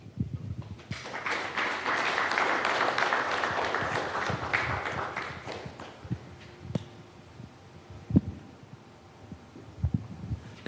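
An audience at a business talk gives a burst of applause that swells for about five seconds, then fades into scattered claps, thumps and room noise.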